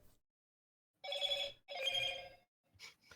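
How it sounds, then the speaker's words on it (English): Stream notification alert chimes twice in quick succession, each a bright ringing burst of about half a second, followed by a fainter short blip, with no talking over it. "That's the notification of your stream, actually."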